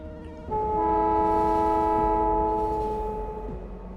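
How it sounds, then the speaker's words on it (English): Train in Factorio setting off with a steady sustained horn-like tone over low rumbling, loud and near, fading slightly toward the end. "a glass train is being sent because we have glass again"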